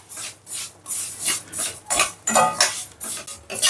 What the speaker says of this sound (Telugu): ఇదే కడాయిలో సేమియా వేసుకోవాలి సేమియా పెంపుకోవాలి